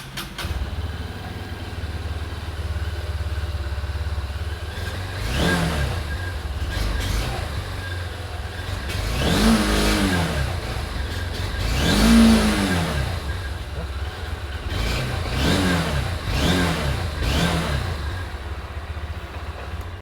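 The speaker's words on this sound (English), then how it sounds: "How does the bike sound? Let's fire it up and see." A Honda CB200X motorcycle engine starts, then idles with a steady low burble. Several sharp throttle revs follow, with a few of the strongest near the middle and more in quick succession toward the end.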